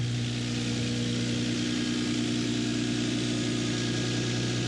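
A Mercedes G-Wagon G63 AMG, long abandoned and just started for the first time, idles with a steady, even low rumble and faint vibration, close by and with no talking.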